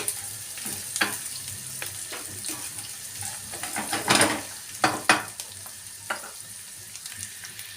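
Onions sauté in a pan for a pickle kavurma, a steady close sizzle broken by stirring scrapes and clacks, with a few louder bursts midway and no talking.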